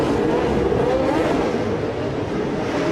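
Historic Formula One race cars from 1966 to 1975 racing at the Monaco Historic Grand Prix make a continuous engine roar with a rising, sweeping pitch as a car goes past at mid distance.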